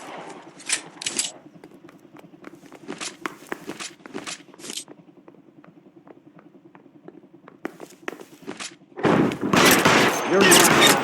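Gunfire erupts during a police shootout in the L.A. Noire crime game, with scattered sharp shots over a low hum, quieter spells, then a loud sustained volley of rapid fire at the end.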